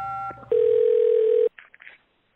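A telephone call tone, one loud steady electronic tone held for about a second, following a brief clatter of dialing sounds and ending with faint rustling.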